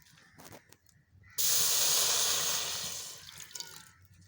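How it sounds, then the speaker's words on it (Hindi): Water is poured into a cooking pot for jaggery halwa, a sudden loud splashing hiss that starts partway through, runs steadily for about two seconds, then tapers off, with faint background noise before and after. "ये थोड़ा सा पानी डाला,"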